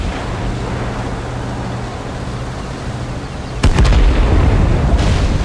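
Artillery shells land in the Ukrainian-battalion shooter game Total Conflict: Resistance, with a sudden loud, broadband blast about two-thirds through following a steady rumbling battlefield ambience, then a second burst shortly after.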